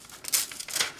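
A Buck 830 Marksman G10 folding knife tip slicing and tearing through material, producing two bursts of bright crinkling, ripping friction close up, with no talking.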